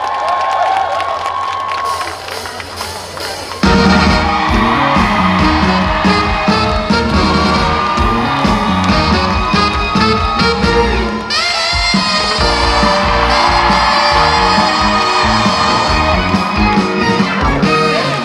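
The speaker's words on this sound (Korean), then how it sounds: "박수만 주세요." An audience at an outdoor festival concert, the opening celebration show of the Bonghwa Sweetfish Festival, applauds and cheers; steady crowd clapping is joined partway through by loud stage music that continues under it.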